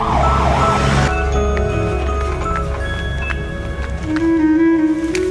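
An ambulance siren wails in a rising and falling pattern for about a second over a low rumble, then gives way to noisy background with faint tonal sounds and a brief high-pitched tone near the end.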